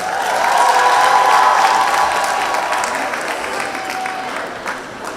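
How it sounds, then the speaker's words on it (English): Graduation ceremony audience at a TVET college giving a final round of applause, a loud, full burst of clapping with faint cheering that swells early and then gradually thins out. "final round of applause"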